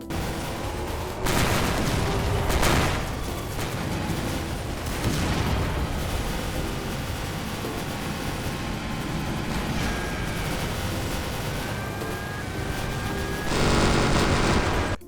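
Rapid gunfire from a plane in an indie video game rattles on continuously and loudly, punctuated by heavier bursts and explosive booms, with brief swells near the start and the end.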